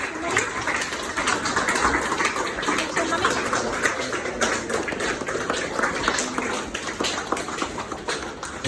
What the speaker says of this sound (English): let's all give a round of applause to my amazing mother, Karen